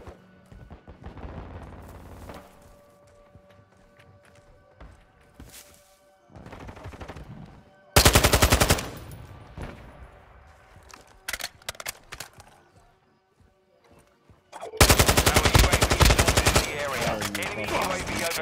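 Bursts of gunfire in Call of Duty: Modern Warfare II, with sparse shots early on and then two loud, dense volleys of rapid automatic fire, the second sustained to the end, amid game sounds and players' voices.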